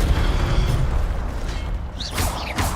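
An Incendio fire spell cast in a wizard video game, a rumbling low whoosh and boom followed by bright crackling bursts near the end, with no speech.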